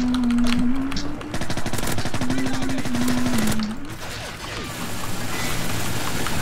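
Rapid automatic gunfire from a Call of Duty match, loud bursts rattling continuously for several seconds, with a steady tone and a brief lull near the end before the firing resumes.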